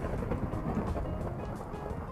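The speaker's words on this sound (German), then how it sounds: "Hört sich nach Donner an." Low rumbling thunder from a Survival Games match, a steady dull roll filling the whole clip at moderate loudness with no talking over it.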